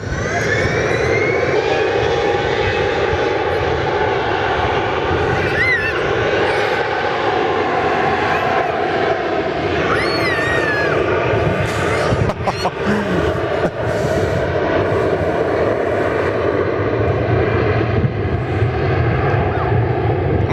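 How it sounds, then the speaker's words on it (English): A Fokker 100 jet's engines roar steadily and loudly throughout at Perth Airport, a sustained powerful rumble with a faint distant crowd murmur. "The first of the Fokker 100s there, just lined up."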